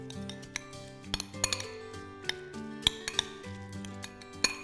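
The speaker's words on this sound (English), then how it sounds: "So now we're just going to mix it all together." Aloe vera gel is stirred with carrot and honey into a paste, the utensil clinking repeatedly against a glass or ceramic bowl in an irregular rhythm, close and clear with no talk.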